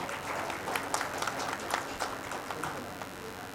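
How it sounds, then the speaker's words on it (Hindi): Audience applause for a senior theatre artist being honoured at a Hindi-language stage event, steady and moderately distant clapping that keeps up its broad patter the whole time without much rise or fall. "वरिष्ठ रंगकर्मी श्री जगदीश गौड़ जी के लिए भी एक जोरदार ताली होनी चाहिए"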